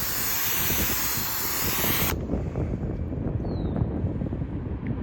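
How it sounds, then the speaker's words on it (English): A pressure washer sprays water across a car's failed ceramic coating, starting as a loud bright hiss that abruptly cuts to a softer, steady splashing spray near the microphone. "let me bust out the pressure washer here"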